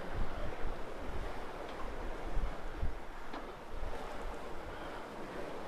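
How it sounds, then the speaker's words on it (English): Choppy sea where two currents meet around a sailing boat off the coast toward Brest, a continuous rough wash of broken waves with wind buffeting the microphone, fairly close and without voices. "You can see the waves are chopping up."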